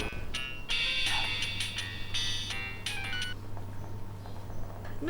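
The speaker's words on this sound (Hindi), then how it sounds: "ये उसी डाइन का फोन है।" Telephone ringing in a horror-comedy drama scene: a series of bright electronic ring bursts repeating several times over a low steady hum, fairly close, with no talk.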